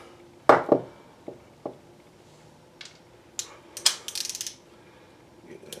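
A ratchet and socket working on the crankshaft bolts of a GM Quad 4 twin cam engine during a rebuild, with sharp metallic clinks and brief ratcheting bursts scattered across a quiet workshop.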